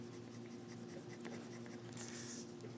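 Colored pencil laying down primary red on paper, a soft continuous scratchy scraping of the pencil tip in short repeated strokes, quiet and close.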